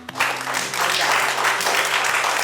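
An audience breaks into steady, sustained applause, many hands clapping at once, fairly close, with no break.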